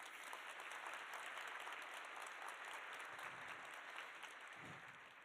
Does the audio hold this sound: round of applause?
yes